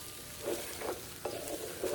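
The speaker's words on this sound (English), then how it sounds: "give that a stir" Ground meat with garlic being stirred in a frying pan for Irish cottage pie, soft scraping strokes of a utensil over a quiet sizzle, several irregular stirs up close with no voices.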